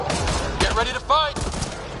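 Gunfire in the sci-fi shooter Mass Effect: Andromeda, a dense burst of overlapping shots in the middle of combat, mixed with other game effects and electronic chirps, with a voice talking over it.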